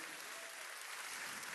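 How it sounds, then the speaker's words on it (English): Steady applause from an audience at a Women in Leadership evening event, honouring New South Wales Police Force officers; dense, even clapping fills the whole stretch with no talk over it. "give them a big round of applause because we love them"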